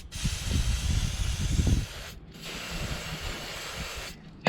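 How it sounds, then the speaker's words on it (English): Brake cleaner sprays in long steady hissing bursts onto the sliding points of a BMW E87's rear brakes, with two short pauses between bursts and some low rubbing and handling noise early on. "I'm going to use some brake clean and a rag just to clean them up"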